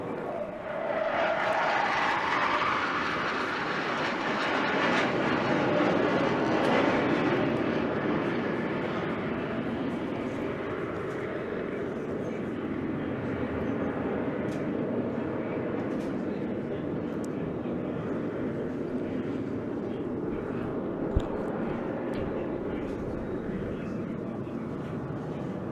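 A Saab J-35 Draken jet fighter at a display flight roars loud with afterburner as it sweeps past, its pitch falling as it passes, then stays a long, broad rumble that fades slowly.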